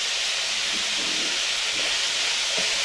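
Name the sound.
oil sizzling in pan with browned onions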